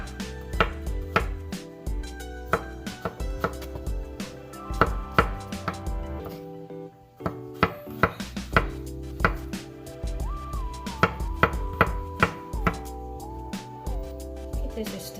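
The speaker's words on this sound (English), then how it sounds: "And now the chopping begins." A knife chops taro leaves on a cutting board in quick, steady taps over background music, with a brief pause midway before the chopping resumes.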